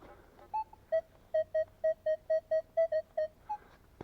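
A Minelab metal detector sounds a steady run of about a dozen evenly spaced electronic beeps over a target while searching for coins at an old tavern site, clear and alone with a faint outdoor background.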